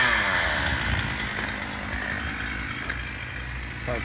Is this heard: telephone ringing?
no